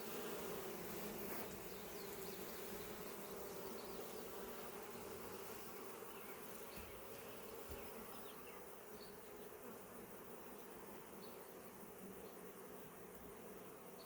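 Honeybees buzz inside an open beehive, a dense, steady drone of many insects close by that holds without pause and without voices.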